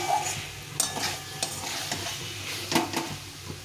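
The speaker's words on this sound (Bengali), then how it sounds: "এটাকে ভালো করে একটু কষিয়ে নিতে হবে সেই এই আলু আর পটলটা কষা কষা হয়ে গেছে দেখো তেল ছেড়ে দিয়েছে" Potatoes and pointed gourd fry in a little oil with spices, giving a soft sizzle under frequent clacks and scrapes of a spatula against the pan.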